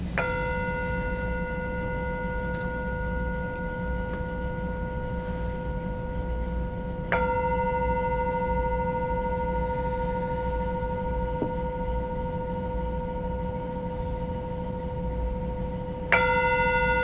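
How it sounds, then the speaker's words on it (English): A meditation bell struck three times to close a practice session, each strike a clear ringing tone that sustains and slowly decays, spaced several seconds apart over a low room hum. "I will ring the bell 3 times"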